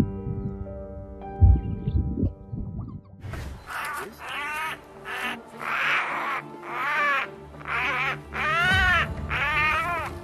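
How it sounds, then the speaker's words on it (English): A flock of jackdaws giving harsh, repeated chattering calls in rapid bursts, loud and overlapping after a low rumbling start. "Jackdaws are among the most fearless and unrelenting bird species out there"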